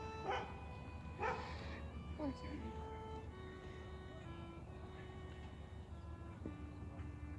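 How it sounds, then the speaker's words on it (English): A small dog gives a few high, squeaky yips spaced about a second apart, faint and distant over a low background hum. "they hear that squeaky little bark"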